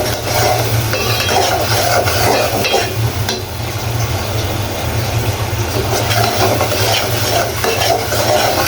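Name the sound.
spice paste being stirred and fried for snakehead fish curry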